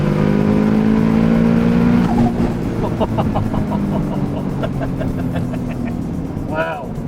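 Nissan GT-R R35 race car at Queensland Raceway during a night track session, its engine droning loud and steady with rising revs and a sharp high whine near the end, while people talk over it.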